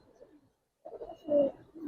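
Gribaz and colored pigeons coo softly nearby, a short murmured call followed by a pause and then a fuller, rolling coo.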